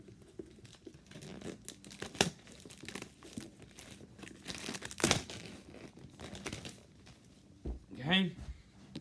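Packaging for Beats Solo3 headphones being cut open and unwrapped, with steady close crinkling, tearing and rustling throughout and a sharper crackling burst near the end.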